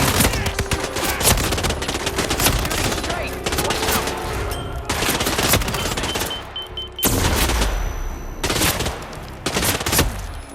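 Automatic gunfire from guards in a Hitman stealth video game, dense volleys of rapid shots and booms packed across the whole stretch, loud and continuous with only brief lulls between bursts.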